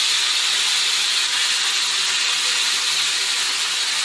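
Spices hit a hot pan and sizzle with a steady, even hiss that stays at one level throughout. It comes across as a bright, airy crackle with no voices.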